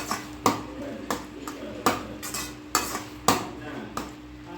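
Bread halwa stirred with cardamom, cashews and raisins in a pan, a spoon knocking against the metal in regular scraping strokes about once a second, fairly quiet and close, with light sizzling beneath.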